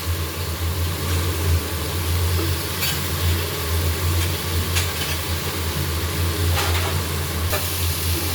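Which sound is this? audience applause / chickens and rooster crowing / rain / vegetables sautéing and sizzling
vegetables sautéing and sizzling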